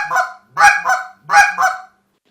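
A handheld short reed honker mimics Canada geese in two crisp high-then-low double honks, each note with a sharp clucking attack, close and loud with no talk.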